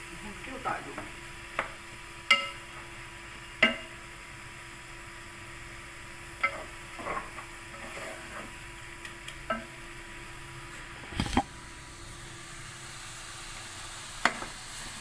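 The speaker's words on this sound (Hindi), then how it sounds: "15 मिनट तक मैं इसको भूनती हूँ अच्छी तरह।" Potatoes, fenugreek leaves and boiled carrots sautéing in a pan, with a soft, low sizzle broken by occasional scrapes and taps of a spoon stirring, close up and without talk.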